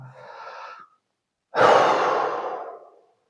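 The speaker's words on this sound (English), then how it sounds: "So take a few deep breaths like that." Two slow, deep breaths: a softer inhale, a pause, then a long, loud exhale that fades out gradually, heard alone with no talking.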